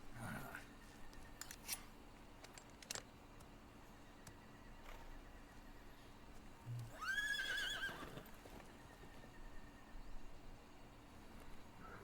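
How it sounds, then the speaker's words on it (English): A horse lets out a shrill neigh midway, with scattered hoof clops and clicks around it in a quiet setting in the game Metal Gear Solid Delta: Snake Eater. "What the fuck is a horse doing here?"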